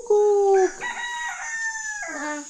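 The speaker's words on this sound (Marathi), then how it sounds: "त्याला कोंबडा आरवणं म्हणतात." A rooster crows nearby in a rural Konkan setting, one loud drawn-out call with a strong first note and sliding, falling tail, set against a steady background hiss.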